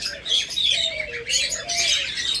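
A pair of yellow collar pet birds call on a bird farm, with bright chirps and sliding whistled notes repeating in quick succession, close and fairly loud over a soft noisy background.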